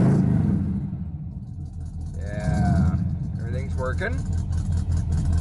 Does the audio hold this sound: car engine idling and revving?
yes